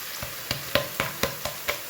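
Chopped green onion frying in hot tempering oil with cumin, red chilli, bay leaf and asafoetida, giving a soft sizzle broken by quick, evenly spaced stirring taps about four times a second.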